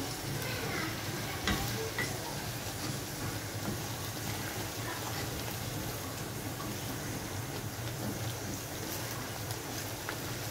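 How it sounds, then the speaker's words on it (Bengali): Ginger and cumin paste fried and stirred in a pan, giving a constant close sizzle with faint scraping, steady and even throughout with no voices. "এবার মশলাটাকে বেশ ভালোভাবে কষাতে হবে।"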